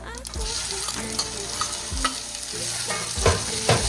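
Okra sautés with cumin and mustard seeds in a pan, giving a steady close sizzle broken by several scraping stirs of a spoon, with no voices.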